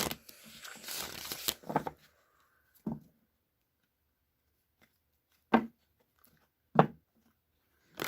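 Tarot cards being shuffled, with a dense burst of riffling at the start, then a few isolated card snaps and taps spaced out across an otherwise quiet room.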